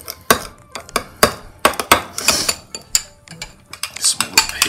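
A spoon stirs a soy sauce marinade in a bowl, making repeated close clinks and scrapes in an uneven rhythm with no talk over them.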